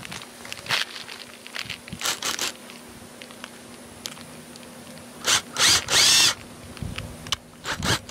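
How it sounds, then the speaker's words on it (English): A power drill bores a hole along the edge of the opening during a Buck Stove model 91 installation, in several short loud bursts separated by quiet pauses and handling clatter. "Now get yourself a drill, or like a spade drill or something, and then go along the edge there, make a hole"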